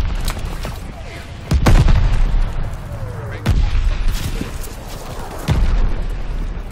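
Video game gunfire and heavy booming shots in a multiplayer match, three or four loud blasts spaced a couple of seconds apart over constant rumbling battle noise, with voices talking.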